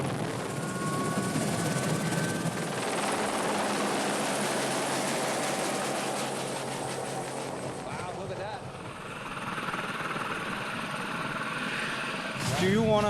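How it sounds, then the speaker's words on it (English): A helicopter drones steadily with a rhythmic rotor thump, loud and close, its pitch shifting as it moves, with voices faintly underneath, flying to a mountain ski area. "The only way to get there is by helicopter."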